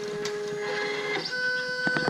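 A Printrbot Plus metal 3D printer runs with a steady whirring drone and shifting whining motor tones, close and continuous, with a few faint clicks and no talking.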